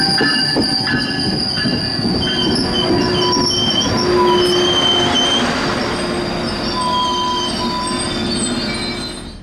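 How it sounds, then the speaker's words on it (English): Metrolink train 661 rolling past on a beachside line in California, a loud, close rumble with high, sustained wheel squeals and a few rhythmic clicks over the rails. "as Metrolink train 661 appeared within the next 15 minutes"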